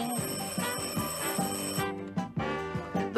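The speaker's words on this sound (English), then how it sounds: "I heard the alarm clock ring." An alarm clock rings in a Sesame Street musical scene, its bright bell tone running through a busy musical backing with rhythmic beats.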